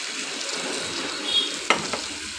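Marinated mutton sizzles steadily as it fries in a spice paste for mutton curry. A spoon stirs it, giving one or two brief scrapes over the constant close frying hiss.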